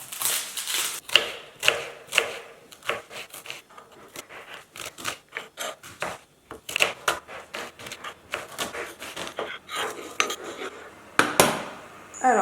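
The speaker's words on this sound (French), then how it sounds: "je vais prendre 2 oignons que je vais émincer" Two onions being sliced with a knife on a board, a rapid irregular series of close, crisp chopping taps and clicks running throughout without any talking.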